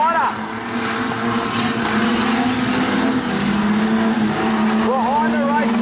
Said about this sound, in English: In the streeties, Justin Jansen gets a great start.